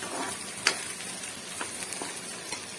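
Onion and potato fry in a pan under occasional stirring, a steady moderate sizzle with a sharp utensil tap near the start and a few softer scrapes, no voices.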